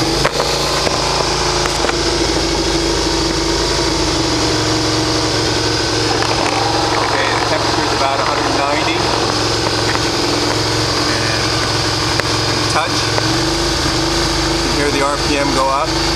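A Suzuki SV650 motorcycle engine runs at a steady, loud idle close by throughout, a continuous low rumble with someone talking over it.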